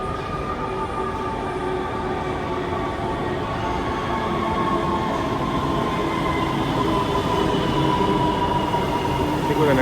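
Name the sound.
LA Metro train riding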